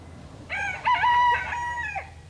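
A rooster crows once in an aviary at Sowerby Hall near Bridlington, a clear, fairly close cock-a-doodle-doo lasting about a second and a half over faint background hum.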